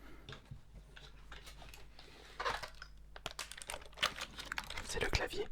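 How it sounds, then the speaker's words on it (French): Quick bursts of clicky keystrokes tap away on a non-mechanical computer keyboard, close and crisp, speeding into denser flurries toward the end in an ASMR object session. "Le pire c'est qu'il ne s'agit même pas d'un clavier mécanique."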